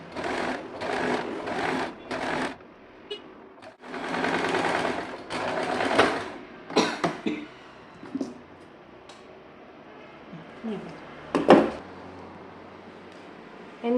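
A sewing machine stitches a kurti in short rhythmic runs of rapid needle clatter, stopping and starting several times, with quieter handling clicks and fabric rustles in the pauses.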